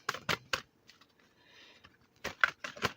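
A deck of Sacred Geometry Activation oracle cards being shuffled by hand, quiet crisp flicking bursts in quick clusters at the start and end with a soft rustle between.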